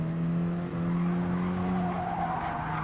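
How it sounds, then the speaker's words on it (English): Race car in a racing video game running wide, its engine droning steadily as the tyres squeal and skid, loud and close throughout. "Aldo, he's running a wee bit wide, can he recover? Oh my god, how unlucky was that"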